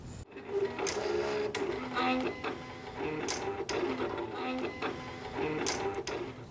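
A Silhouette cutting machine slices vinyl loaded from a roll for glass etching, giving a steady mechanical whir with repeated short motor bursts and carriage movements, close and continuous, with no talk.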